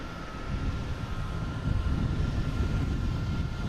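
Airliners arrive at Boston Logan airport, a loud sustained jet engine roar that swells slightly as a plane passes close, alone without talk.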